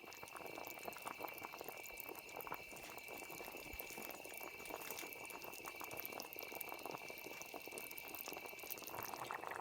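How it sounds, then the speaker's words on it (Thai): A pot of curry with taro boils at a steady, quiet bubble, a continuous soft simmering burble with no voices over it. "เดี๋ยวก็เราก็ต้มไว้จนเดือดแล้วก็รอให้ หัวเผือกสุกเลยนะครับผม"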